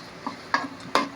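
Chopped onion sautéing in a pan, with a faint background sizzle broken by three sharp clinks and scrapes of a spatula stirring the pan, close and fairly quiet.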